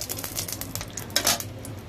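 A bay leaf is torn into hot mustard oil in a pan, and a faint, short sizzle mixes with light clinks of a utensil against the pan.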